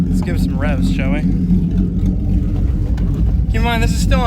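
Close up, a 2011–2014 S197 Ford Mustang's 3.7 L V6, fitted with a ported 2015–2017 S550 intake and running on pump gas, holds a deep idle rumble, broken by rising and falling rev sweeps at the start and again near the end.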